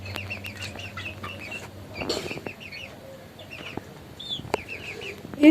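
Golden Misri mix chickens, about 2.5 to 3 months old, cluck and chirp repeatedly nearby on a rooftop, short squawky calls scattered over a quiet background with a brief rustle or flap.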